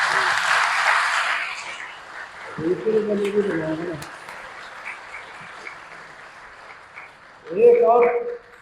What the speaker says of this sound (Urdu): ابھی اسلام کے لیے بجا دو